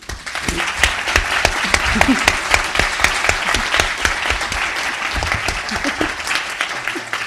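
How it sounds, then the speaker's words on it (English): An audience claps for several seconds at a talk, a dense, steady round of applause heard close and fairly loud without speech over it. "I really just want to invite your applause with me"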